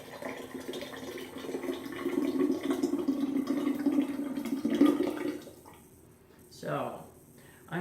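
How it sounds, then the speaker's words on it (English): Strained kefir is poured into a glass fermentation jar in a steady, soft liquid stream for about five seconds, then the flow stops and a few faint handling sounds follow. "pour the strained kefir into"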